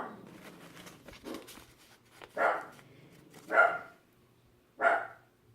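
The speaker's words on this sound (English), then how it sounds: "Sorry, my dog was barking." A dog barks nearby in three loud, separate single barks spaced about a second apart, with quieter shuffling and pattering sounds before them and no talking.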